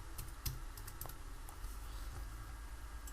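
Computer keyboard typing a folder name, a quick run of light plastic key clicks up close, irregular and dense at first, then sparser taps over a soft room hiss.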